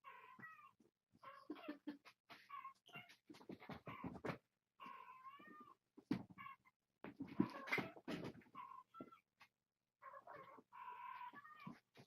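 Recorded cat meows play from a phone app hidden under a blanket, heard faint and muffled as scattered short calls with brief pauses between them.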